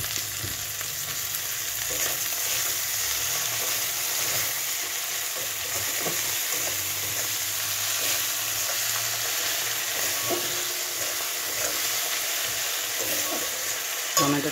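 Chopped tomato sizzles and fries steadily in a pan for a fish curry with cauliflower, a continuous close crackle with occasional stirring scrapes and clinks throughout.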